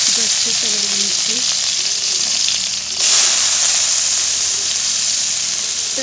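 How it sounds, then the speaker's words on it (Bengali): Dried fish (shutki) frying in hot oil in a home kitchen, a steady broadband sizzle that swells briefly midway as the pieces are stirred, with faint talk underneath. "শুটকিটা একটু তেলে ভেজে নিচ্ছি।"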